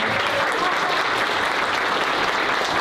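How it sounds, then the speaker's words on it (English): A community preparedness event audience applauds the organizer, a steady, dense wash of clapping that stays loud and even from start to finish with no voices standing out. "how about a round of applause for our organizer, Martha Rubin."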